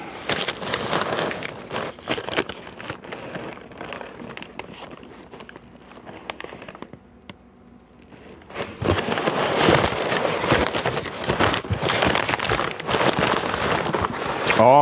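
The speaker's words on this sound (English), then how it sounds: "Nothing like rain on a tin roof." Rain falling on a tin roof, a dense, steady hiss and patter that stays loud and continuous, dips briefly, then returns even heavier for the rest of the stretch, with no voices.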